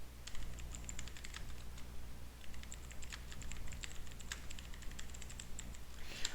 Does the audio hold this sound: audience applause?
no